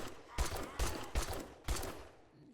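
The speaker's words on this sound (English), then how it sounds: "I'm just gonna shoot them." Four separate gunshots fired at zombies in the survival game 7 Days To Die, each a sharp, loud crack with a short decaying tail, spaced at roughly even intervals over a low background hum.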